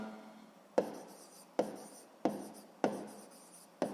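A pen writes on paper during a sixth-grade math exercise, with five sharp taps of the pen touching down, each followed by a short scratching stroke that fades. The sound is close and quiet, with no speech.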